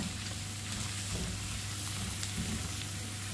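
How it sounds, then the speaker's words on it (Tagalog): Chayote and shrimp sauté in a pan, a constant loud sizzle with scraping stirs of the spatula breaking through now and then, no voices over it. "haluin lang natin mga lalabs"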